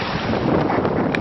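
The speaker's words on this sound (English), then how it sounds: "Just a gorgeous sail, having 17, 18 knots of wind." A sailboat running in 17 to 18 knots of wind, with a steady roar of wind buffeting the microphone and rushing water along the hull, loud and continuous with no pauses.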